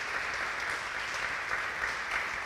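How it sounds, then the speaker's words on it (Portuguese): A church congregation at an evening worship service applauds, a steady, even roar of many hands clapping together, sustained and moderately loud with no speech over it. "Dá uma salva de palmas para Jesus"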